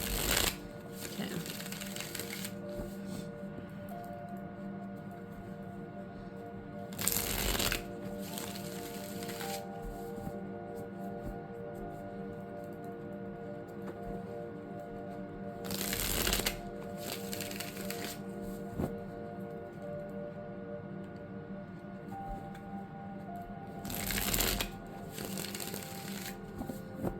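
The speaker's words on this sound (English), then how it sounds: "How these cards shuffle" Tarot cards with flexible, thin cardstock being shuffled, several bursts of riffling separated by pauses over a quiet background hum.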